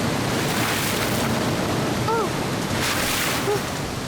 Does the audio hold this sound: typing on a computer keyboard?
no